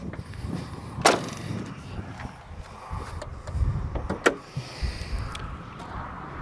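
Electric windows on a 2003 Bessacarr E760 motorhome built on a Fiat Ducato 2.8 turbo diesel, heard as motor whirs with sharp clicks and thumps from the switches and glass stopping, set against quiet cabin background.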